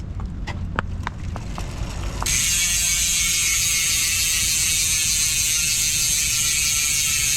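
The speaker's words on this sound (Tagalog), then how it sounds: "Yan guys, yung tunog ng speed 1 torpedo, MTB hubs kapag naka free wheel." Freewheeling rear hub of a 29er rigid mountain bike, a Speed 1 Torpedo hub with an 8-pawl ratchet: a few sharp clicks followed by a steady, fast ratchet buzz that runs loud and continuous to the end.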